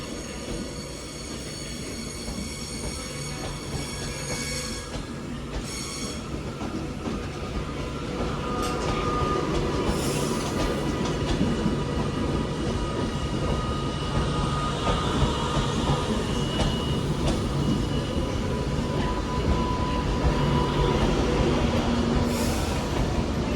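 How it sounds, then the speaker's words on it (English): A Northern Class 331 electric train rounds a curve toward Manchester Airport, a steady, rumbling wheel roar with faint metallic squeal that grows louder midway and persists, heard from a platform with no talk. "there's an Northern service to Manchester Airport rounding over there. That's 331101"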